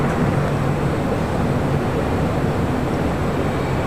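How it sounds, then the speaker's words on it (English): A JetBlue Airways A321 airliner takes off, a loud, steady broadband jet roar filling the whole stretch without a break, no talk over it. "Taking off, that was JetBlue Airways flight 1374, A321."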